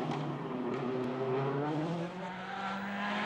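Rally car on a slippery stage at the East Belgian Rally, its engine holding a loud, steady high-revving drone with slight pitch shifts as it slides along, close and continuous.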